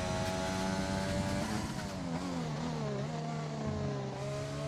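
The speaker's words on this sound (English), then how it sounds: "We can go on board with OPJ for his flying lap in the AlphaTauri." AlphaTauri Formula 1 car engine on a flying qualifying lap at the China round of an F1 video game esports event, a steady high-pitched whine rising and falling through gear shifts, continuous and loud with no talking.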